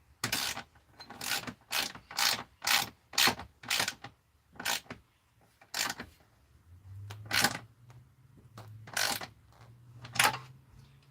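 A ratchet wrench tightening a bolt on an RV, a series of rapid clicking bursts in an uneven rhythm with short pauses between strokes, close and clear, with faint low background noise in the latter half.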